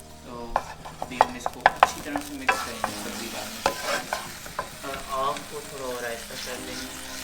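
Garlic paste frying in hot oil in a pan while a utensil stirs it, producing a busy run of scraping clacks and taps over a continuous sizzle, close and fairly loud.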